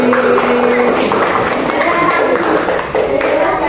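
Classroom pupils clapping for a classmate during a board game lesson, loud close patter with a few voices mixed in.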